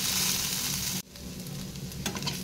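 Kakrol pieces and onion sizzle in hot oil, a dense close hiss that cuts out abruptly partway through. Quieter frying then resumes, with light scraping from stirring.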